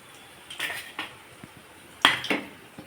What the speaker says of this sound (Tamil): இப்போ நம்ம இதை எடுத்து தனியாக ஒரு பிளேட்டில் வச்சுக்கலாம்.